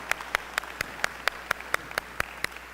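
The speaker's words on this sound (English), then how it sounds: "Round of applause for those ladies." Slow, evenly spaced single claps, about one every quarter second, ring out in a gym after a women's basketball drill, fairly quiet with a faint room hum and no talking.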